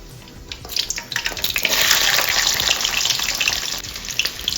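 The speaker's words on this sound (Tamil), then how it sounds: "பூண்டு உரிச்சு வச்சுருக்கேன் பூண்டு சேர்த்துக்கிறேன்" Peeled garlic cloves hit hot oil with fenugreek seeds already in the pan, bursting into a loud, steady crackling sizzle that swells and carries on without talk.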